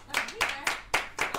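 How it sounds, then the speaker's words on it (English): Live audience in a casual blind-date show setting claps briefly, a handful of loud, distinct claps in uneven rhythm, fairly close and dry. "Clap it up for Tylil"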